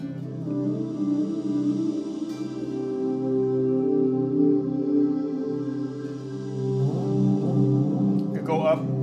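An electric guitar with its tone rolled off plays sustained fifths, a warm, dark, ringing chord held steadily before a second shape rings out near the end.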